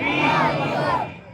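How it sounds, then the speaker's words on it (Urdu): Religious gathering crowd answering a Nara-e-Takbeer call, a short loud burst of many voices shouting in unison that rises together and fades after about a second. "ایک مرتبہ ہم اور آپ مل کر شاعر اسلام کا استقبال کرنے کی غرض سے نعرے تکبیر و رسالت کی صدائیں بلند کریں"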